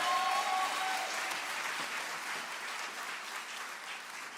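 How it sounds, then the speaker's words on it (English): An audience applauds a performer at a university cultural evening, a steady wash of clapping that fills the clip and slowly fades, with a brief faint tone near the start. "One more time, a round of applause for Shannon Lee Bartow."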